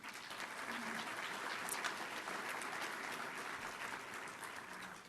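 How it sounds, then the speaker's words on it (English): Sustained audience applause at a health technology event, steady and fairly distant, with no talk over it for the whole stretch. "Let's give these pledges a round of applause."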